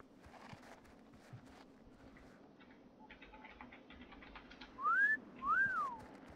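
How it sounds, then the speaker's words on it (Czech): Two sharp rising-and-falling whistles from a character in the video game World of Warcraft, close and clear, heard near the end over faint background game sounds. "give a sharp whistle to get their attention"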